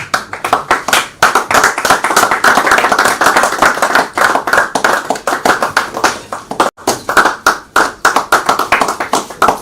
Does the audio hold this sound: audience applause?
yes